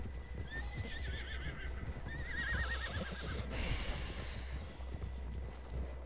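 A horse in Red Dead Redemption 2 whinnies twice with shaky, wavering neighs over a steady rumble of clip-clopping hooves and background noise.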